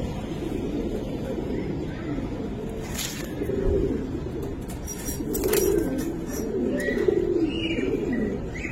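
Giribaz pigeons in a loft coo and rustle steadily and close by, with low throaty cooing throughout and a few brief chirps and wing flutters, while someone speaks now and then.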